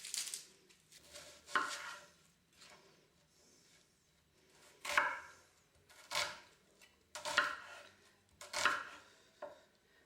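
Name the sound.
chopping onions with a knife for lasagna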